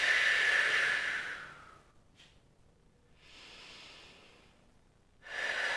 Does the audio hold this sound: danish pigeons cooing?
no